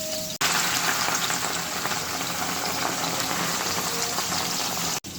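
Jute leaves dropped into hot oil in a pan, a loud, dense, continuous sizzle and crackle that runs steadily from start to finish.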